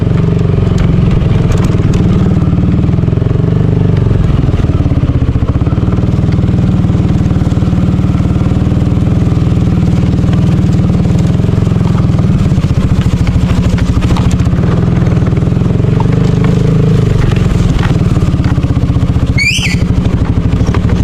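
A motorcycle engine drones loud and steady throughout a ride, with a continuous low rumble and slight shifts in pitch, along with a brief sharp chirp near the end.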